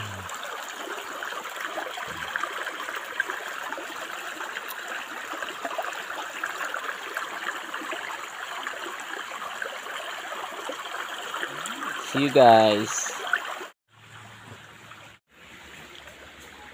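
A mountain river flows in a steady, full rush of water for most of the stretch. A short spoken farewell comes near the end, just before the sound cuts off.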